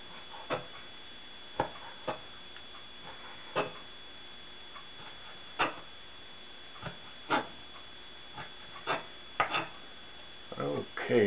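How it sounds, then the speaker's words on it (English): A knife dices ham on a cutting board, giving sparse, irregular sharp taps spread out with pauses between them, close up and fairly quiet, quickening into a cluster of chops at the end. "Dice this ham here."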